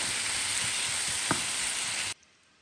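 Pan-fried ingredients seasoned with salt, black pepper and red pepper sizzle in a loud, steady hiss, with a single sharp utensil knock midway, before the sound cuts off abruptly into near silence.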